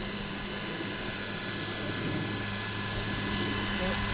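A Hughes MD500 RC model helicopter hovers outdoors in wind, its rotor making a steady, continuous whirring drone with a faint buzzing hum, loud and close throughout.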